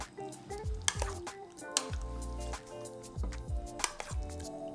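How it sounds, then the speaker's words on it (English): Oil and sesame oil are stirred into marinated chicken in a bowl, giving repeated soft clacks and wet mixing strokes at a steady rhythm, close and moderately quiet. "We'll add oil and sesame oil into our marinated chicken and mix."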